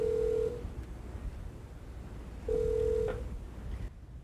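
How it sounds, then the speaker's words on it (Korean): An emergency call bell installed in an alley on a designated safe route home is pressed, sounding two steady electronic ring tones separated by a quiet pause of about two seconds as the call tries to connect, with faint background hiss. "골목 안쪽에 설치된 비상벨을 눌러봤습니다."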